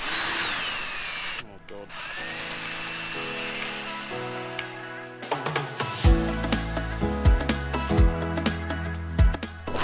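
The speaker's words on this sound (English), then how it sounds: "We're gonna get that magic drill." An electric power drill whirs through a resin job on the rotten stringers of a 1964 Glastron ski boat. The motor runs in short bursts at stepped speeds, followed by a busy stretch of sharp, rhythmic knocks.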